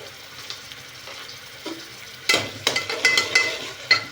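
Onions and whole garam masala such as cloves frying on high heat for a chicken biryani, a soft steady sizzle that turns louder after a couple of seconds with clinks and scraping from stirring.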